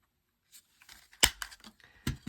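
A few crisp scissor snips cut through paper close by, with light rustling between the cuts and no voices.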